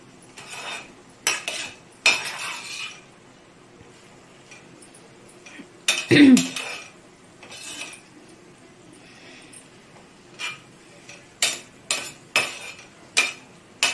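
Fish pieces tossed and stirred through gravy in a pan, with scattered metal clinks and scrapes of a spoon against the pan coming in irregular bursts, some louder knocks mid-way, no voices.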